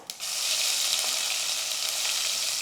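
Loud, bright sizzling of mustard seeds, asafoetida and spice paste in hot oil, a dense continuous crackle right up close that starts abruptly and holds steady.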